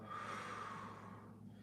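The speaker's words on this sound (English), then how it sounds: "nostril breathing in through the nose, big belly, long exhale out through my mouth" A person breathes in slowly through the nose and then lets out a long exhale through the mouth during a warmup, close and quiet, a single drawn-out breath without talk.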